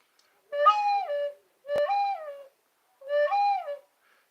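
A dove gives three mellow, hooting coos with short pauses between them. A sharp click cuts through the second call, and the background stays quiet.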